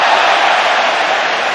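A dense, roaring football crowd applauds and cheers in a large stadium, a steady wash of sound with no individual voices standing out.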